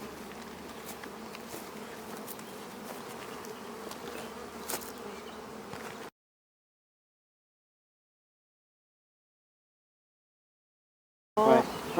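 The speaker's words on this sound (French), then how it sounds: "Ah, il y a un paquet d'abeilles." A dense swarm of honey bees being put into hives buzzes steadily and fairly close for about six seconds, then silence, then a short burst of buzzing returns at the end.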